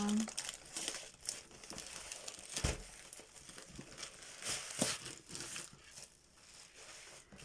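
Crinkly plastic wrapping from an AliExpress package is crumpled and torn open up close, with irregular rustling bursts and a few sharper crackles, while a person speaks softly underneath.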